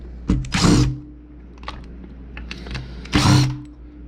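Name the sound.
unscrewing Phillips screws on Echo weed eater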